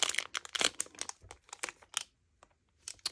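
Plastic packaging is handled close up, giving bursts of crisp crinkling and rustling that stop into a near-silent pause, then resume with a few light crackles.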